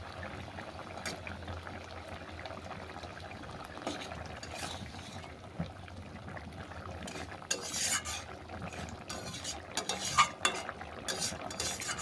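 Chopped coriander is stirred into a simmering ol and katla fish curry in a pot, with a spoon scraping and clinking against the metal in irregular bursts over a quiet bubbling background, growing busier toward the end.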